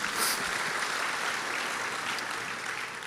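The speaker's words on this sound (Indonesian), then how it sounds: "Berikan tepuk tangan kita untuk Tuhan kita." A church congregation claps together in sustained applause, a dense, even wash of hands filling the room at moderate level without letting up.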